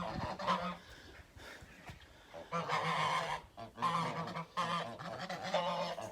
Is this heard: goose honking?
yes